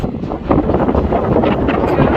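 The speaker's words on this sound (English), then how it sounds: "So windy up here. It's so windy. It's really windy." Strong wind at a clifftop lighthouse near Swanage on the English south coast buffets the microphone in a loud, continuous low rumble and roar, gusting unevenly throughout.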